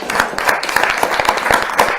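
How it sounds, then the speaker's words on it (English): A crowd applauds steadily, many hands clapping together in a dense, continuous patter with no voices over it. "A big round of applause, please."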